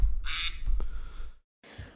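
A short, bright duck quack sound effect rings out once near the start, followed by low rumbling noise, a brief silence and a faint tail.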